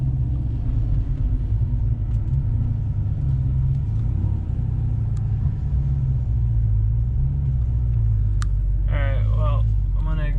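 Lifted truck engine running while driving, a loud constant low rumble with steady drone, brief speech near the end over the engine.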